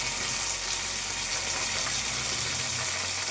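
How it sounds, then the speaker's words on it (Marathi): Garlic and curry leaves frying in hot spattering oil, a dense continuous close sizzle and crackle without talking. "आता सुरुवातीला मी लसूण आणि कढीपत्ता ॲड केलेला आहे अंगावरती तेल उडते"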